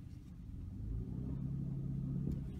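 A Lincoln MKZ AWD 3.0L tuned to about 400 hp, heard from inside during a torque launch: a low engine rumble that swells and holds a steady droning hum, moderately loud and without speech.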